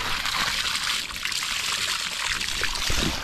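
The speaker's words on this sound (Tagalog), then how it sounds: "May tubig na pamarating sa ating palayan." Water pours steadily through a pipe into a rice paddy, a continuous close splashing and gushing rush with no voices.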